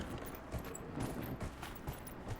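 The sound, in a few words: horse hooves galloping in video game Dragon Age Inquisition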